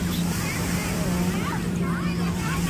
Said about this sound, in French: avec le bruit des vagues et tout